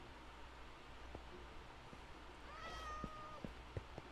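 A Minecraft cat meows a few times in a short burst of rising and falling calls partway through, moderately loud over a steady low background hiss, with a couple of soft clicks around it.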